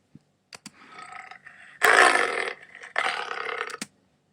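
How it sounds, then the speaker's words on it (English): A leopard snarl sound effect from iMovie: a few soft clicks, then a low growl rising into two harsh, raspy snarling bursts, close and loud with no other sounds. "the leopard snarl is 3 seconds"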